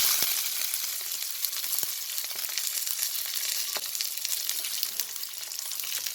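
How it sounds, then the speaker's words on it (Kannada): Ingredients for chicken biryani fry over a low flame, giving a steady, fairly loud sizzle with scattered crackles and pops throughout, and no voices. "ಈಗ ಎಲ್ಲನೂ ಹುರ್ಕೊಳ್ಳೋಣ"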